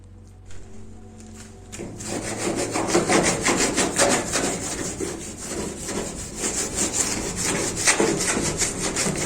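Spatula scraping baked-on, encrusted grime inside a dirty oven, a steady rough rasping with repeated strokes that starts after a quiet moment and continues loudly throughout.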